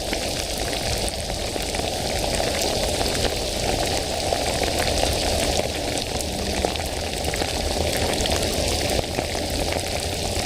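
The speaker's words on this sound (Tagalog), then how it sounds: "Lalong lumakas ang ulan." Heavy rain pours steadily and loudly onto a surface outdoors under a dark sky, a dense continuous hiss with constant spattering and no talking.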